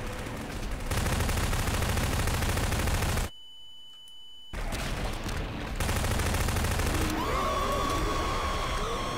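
Sustained automatic gunfire in Garry's Mod, pouring rounds into a monster's heart on a horror map: dense, loud continuous shooting that breaks off briefly near the middle, then resumes.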